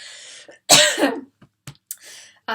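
One loud, harsh cough, followed by a few faint throat sounds and a short breath.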